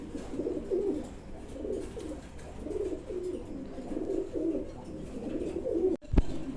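Pigeons, including a leg-tagged pair, coo in soft, repeated low throaty phrases at a steady pace, moderately close amid faint background noise, with a brief sharp knock near the end.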